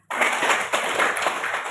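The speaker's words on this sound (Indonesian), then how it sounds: "Tepuk tangan." Children in a classroom clapping their hands, a sudden burst of many small hands clapping together, close and steady for nearly two seconds with no talking.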